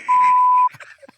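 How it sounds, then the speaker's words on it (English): A single loud, steady censor beep tone lasting about half a second, followed by brief scattered voice fragments. "there's a free beep"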